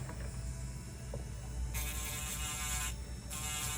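An electric nail file sands the underside of a polygel nail shaped on a nail form, giving a steady, close, high-pitched buzz. The buzz rises slightly in intensity at times. No one talks.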